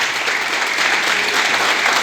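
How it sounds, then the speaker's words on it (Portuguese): Church congregation at a Sunday evening service breaking into sustained, dense applause, loud and close. The clapping runs evenly for the full two seconds with no voice rising above it. "dá uma salva de palmas a Jesus que vive"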